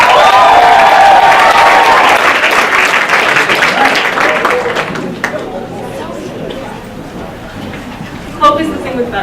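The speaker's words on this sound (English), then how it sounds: "So we'll get a round of applause." Audience at a high school poetry slam giving a round of applause, loud clapping mixed with cheers and chatter that fades after about five seconds, leaving quieter room murmur with a brief bump near the end.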